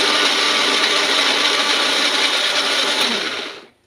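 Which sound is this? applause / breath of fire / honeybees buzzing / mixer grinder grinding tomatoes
mixer grinder grinding tomatoes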